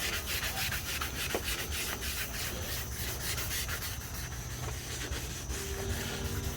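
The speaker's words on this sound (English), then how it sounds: "I am starting to wet sand" Wet sanding of a car hood by hand to prep it for spray can paint, giving a continuous close scratchy rubbing with steady back-and-forth strokes and no talking.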